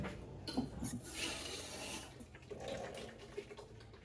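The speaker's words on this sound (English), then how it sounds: "Just need to put some water." Water is poured into blended beans for moi-moi, a soft continuous trickle and splash lasting a few seconds, faint and close, with light clinks afterward.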